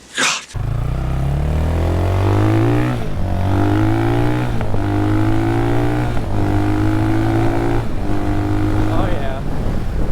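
An RPS Cruiser 300 EFI motorcycle, a liquid-cooled, fuel-injected 300 cc six-speed, accelerates up through several gears, its loud engine note rising in pitch and dropping at each shift, after a brief burst of sound at the start.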